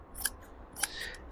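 Scissors snip upholstery fabric along the edge of foam during chair reupholstering, two crisp close cuts about half a second apart with a brief rustle of cloth after the second.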